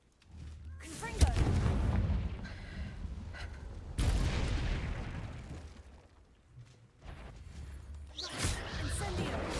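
The Confringo spell fires in the Hogwarts Legacy video game, with booming, blast-like bursts and whooshes repeating through the stretch while a player speaks over the action.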